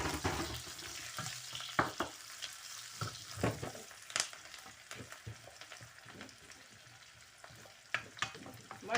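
Cumin, golden garlic and a large green chili sizzle in hot oil for a tadka. A continuous crackling fry sounds alone, with sharp spattering pops and stirring scrapes throughout.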